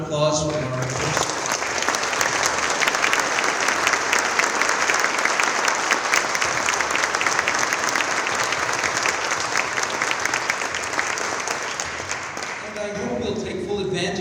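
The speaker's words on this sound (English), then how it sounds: "Can I hear a round of applause for our artists?" Sustained audience applause for the artists at an evening keynote event, loud and dense from the start and holding steady for over ten seconds before tapering off at the end.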